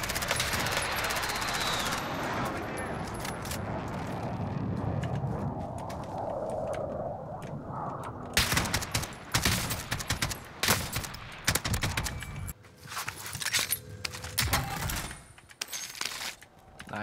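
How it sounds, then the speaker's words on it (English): Rapid gunfire in the Warzone video game, with the M4A1 and SOCOM rounds, crackles in dense bursts that grow sharper and more clipped after the first seconds, loud and close with brief gaps between volleys. "Stop shooting at me!"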